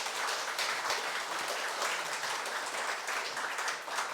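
Steady applause from a church congregation during a Sunday service, a dense patter of many hands clapping continuously, moderately loud and without any speech over it.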